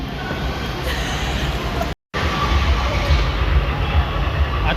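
A metro train rumbles loudly and steadily close by at a station platform in Pune during the crowded Ganpati festival at night, with a brief sudden dropout in the sound partway through.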